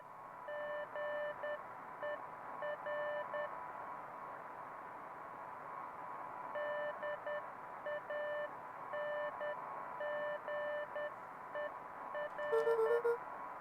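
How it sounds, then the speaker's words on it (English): Faint electronic Morse code beeping in Beacon Pines, steady tone bursts in rhythmic groups over soft static hiss, with a brief pause mid-sequence. "if we are to decode this Morse code, the game will do it for us at some point"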